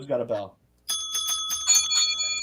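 A bicycle bell rings in quick repeated dings, close and bright, right after a short stretch of someone talking on a wrestling podcast.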